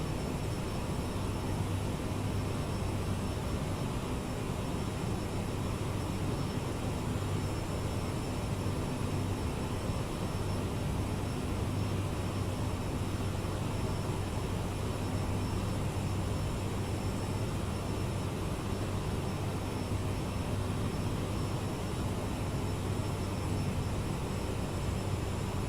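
Steady, continuous drone of jet airliner engines in flight in Microsoft Flight Simulator, an even broadband roar with a low hum running unbroken and moderately loud throughout, with no talk over it.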